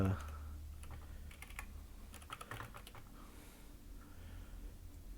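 Quick bursts of keystrokes on a computer keyboard, irregular and fairly close, with clusters of taps over a low steady background hum and no talking.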